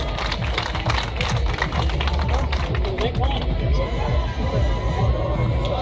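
Spectators clap and cheer at a UCI Trial World Cup final in Pra Loup, a dense, steady crowd roar with rapid clapping, loud and continuous throughout with some voices mixed in.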